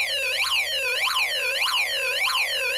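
A Snap Circuits Arcade electronic kit gives off a warbling electronic siren, smooth rising-and-falling sweeps repeating roughly every half second, steady, close and fairly loud, with no voices.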